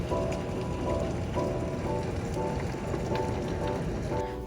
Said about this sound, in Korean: 빗소리가 좋은 아침입니다.